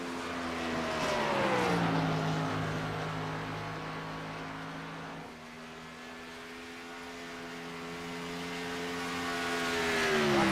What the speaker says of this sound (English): Here's Eric Schaefer, our points leader, coming across the start-finish line to start his first of 2 laps.